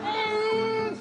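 A single drawn-out meow lasting about a second, voiced by a person imitating a cat, with a slight falling pitch at the end.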